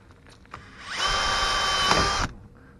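A power drill spins up and whines steadily for about a second, boring a pilot hole for a screw up close while installing a tankless water heater, then stops abruptly.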